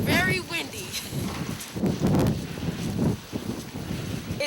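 Gusty wind buffeting the microphone at a tent camp, a rumbling, uneven roar that swells and drops in bursts.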